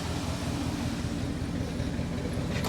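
A 1979 Ford F250 engine runs steadily at idle, a continuous low rumble with broad mechanical hum and no talk, holding even throughout.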